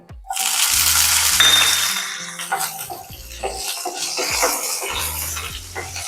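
Chillies dropped into hot oil with toasted cumin seeds for a Gujarati jackfruit curry, a loud, dense sizzle that bursts up at once, then settles into steady crackling and popping, close by with no talk.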